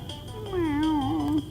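A single drawn-out cat meow, tonal and slightly wavering, lasting about a second and heard close and fairly clear over a faint background hum.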